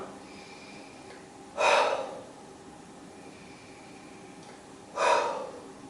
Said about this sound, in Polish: weźmiemy wdech przez nos i wydech przez usta